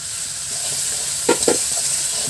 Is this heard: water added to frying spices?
yes